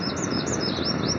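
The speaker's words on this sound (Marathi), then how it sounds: "पक्ष्यांचा कुठेतरी किलबिलाट आवाज येतोय." Birds chirp in quick, repeated high tweets against a steady background hum in the Sahyadri hills of Malshej Ghat at sunrise, the calls moderately loud and continuous.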